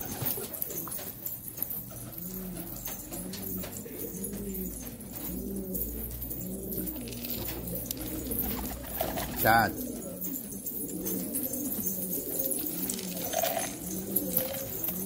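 Domestic pigeons, kept caged and hungry, coo repeatedly in soft rolling phrases close by, a steady overlapping chorus with occasional wing flutters, while someone talks over them.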